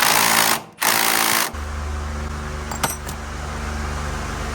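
A tool hammers rapidly on a Jeep steering sector shaft nut, a loud harsh buzzing rattle that cuts out briefly, resumes, then drops to a steadier lower whirr with a couple of sharp metallic clinks.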